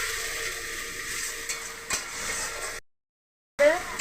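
Ginger and garlic frying in a pan give a steady sizzle with light stirring that breaks off into a brief silence before resuming.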